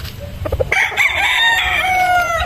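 A Boston Roundhead gamefowl rooster crows loudly and close by in one long, sustained call, with a few short clucks just before it.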